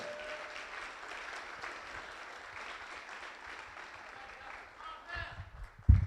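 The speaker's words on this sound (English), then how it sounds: "Give him a round of applause." Audience applause for Dr. Thomas Parham, a university president, at a men's empowerment summit, a steady moderate wash of clapping lasting several seconds with a louder burst near the end.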